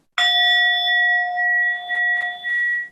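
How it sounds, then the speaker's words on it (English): A singing bowl is struck once and rings with a clear, sustained metallic tone that hums on steadily, with a few soft taps or knocks near the end. "when I play my singing bowl"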